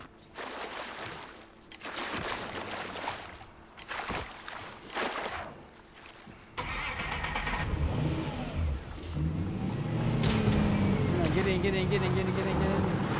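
In the video game Fortnite, a boat engine revs and accelerates. Choppy bursts give way to a sustained, rising motor roar in the second half, with voices talking over it.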